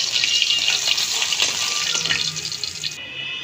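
Hilsa from the Padma frying lightly in hot oil, a steady close hiss and sizzle running throughout with no talking.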